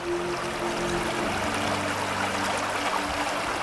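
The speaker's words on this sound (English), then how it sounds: "A bit of morning meditation by the stream." Steady rushing and trickling of a flowing stream in Portugal in the morning, close and continuous, with a faint low hum underneath.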